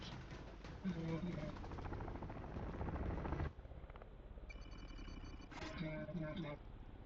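An enemy attack helicopter in Warzone 3 makes a rapid, rhythmic rotor chop at close range, joined by game radio voices and other game effects.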